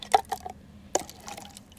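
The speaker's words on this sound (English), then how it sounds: "That's the sound of an aluminum water bottle being opened" An aluminum water bottle, the kind sold at a university campus, gives a short crisp crack and hiss near the start, then a second sharp metallic snap just under a second later, close and fairly quiet with small trailing liquid sounds.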